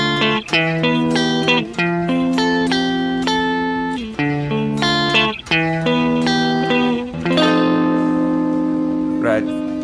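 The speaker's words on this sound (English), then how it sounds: "So now, here we have a little bit more glassy guitar tone." A clean electric guitar plays bright, glassy sustained notes and chords, one after another with short gaps between phrases.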